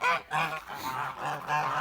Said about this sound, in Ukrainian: Здоровенькі були наші галасливі гуси.